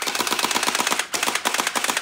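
A toy M416 gel ball blaster fires in a rapid automatic burst, a fast, even rattle of shots with a brief pause partway through, loud and close.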